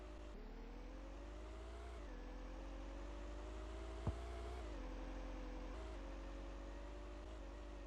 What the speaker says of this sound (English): And there's a bus on the field.